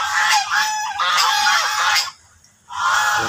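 Many geese honk loudly and continuously at a picnic campsite, a dense nearby chorus that drops out briefly before resuming.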